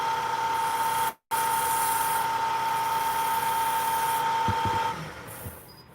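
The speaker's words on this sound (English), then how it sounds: "Now do you see why I don't hate sanding?" A steady, loud electric power sander sanding wood whines continuously with a constant mechanical hum, briefly cutting out once, then winding down near the end with a few light knocks.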